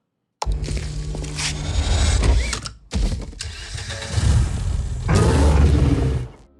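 Car advertisement effects of an engine starting, mechanical clicks, whooshes and rising engine revs arrive in distinct bursts separated by brief near-silent gaps, ending on a loud sustained roar that stops suddenly.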